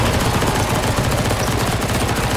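Rapid gunfire from shooting at a boss in a CS:GO zombie escape Halloween map, a dense continuous burst of shots at steady loudness throughout.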